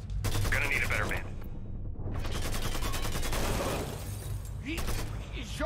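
Rapid bursts of gunfire from the Mafia 3 video game crackle loudly and continuously, layered with explosive shots and game voices speaking over the firefight.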